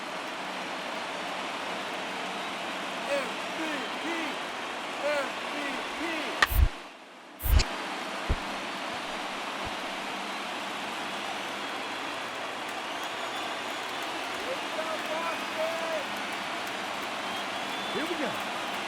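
A large stadium crowd of over 37,000 roars in a steady, dense wash during an ALCS Game 4 playoff baseball game in MLB The Show 19. A few sharp clicks cut through midway.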